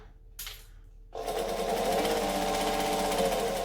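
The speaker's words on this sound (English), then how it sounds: "I'm going to stitch and back stitch." A sewing machine stitches and back-stitches fabric for a heart-shaped eyeglasses case, starting with a brief whir, a pause, then a loud continuous run of rapid needle chatter close by.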